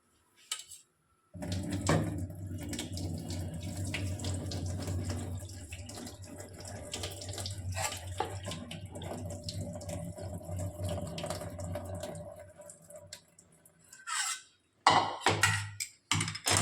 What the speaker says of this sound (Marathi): हे गरम पाणी आता काढून टाकायचं आहे.